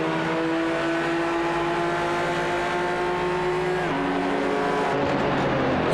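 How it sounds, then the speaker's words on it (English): Race cars and an LMP prototype scream past at Watkins Glen, heard as a loud, steady engine whine with shifting pitch and a gear change partway through, the roar carrying on with no voices. "these guys have a great little battle here through this last section, with even an LMP zipping by."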